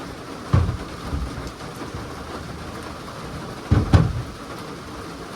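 Heavy rain pours in a steady hiss, punctuated by two low thumps like distant thunder.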